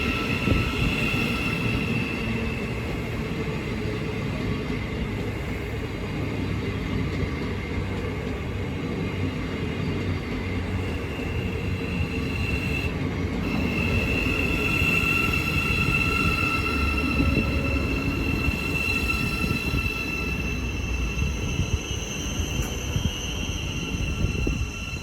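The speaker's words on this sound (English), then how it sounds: "Now departing is the 1442 Thameslink service from" A Thameslink train rolls through Hitchin station on the East Coast Main Line, a steady, continuous rumble of wheels and wagons at close range with a faint high whine, filling the whole stretch without talk.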